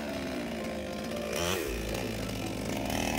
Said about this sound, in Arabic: يستخدم المزارع وابن الريف المنشار الكهربائي في عملية القطع